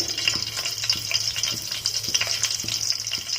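Slit green chilies crackle and sizzle in hot oil for a spicy nati chicken curry, a steady frying hiss with small pops, close and continuous with no talk.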